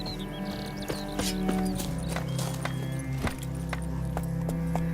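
Horse hooves clip-clop at a steady walking rhythm in The Witcher 3, mixed with game ambience and a low sustained drone, moderately loud throughout with no talking over them.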